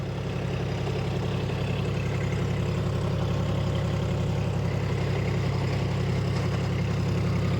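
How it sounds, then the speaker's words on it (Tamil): John Deere 5050 D 4x4 tractor running with a rotavator, its engine a smooth, steady, heavy low drone that holds an even level throughout with no other sounds. "இன்ஜின் சவுண்டு ஸ்மூத்தாக போயிட்டுருக்கு"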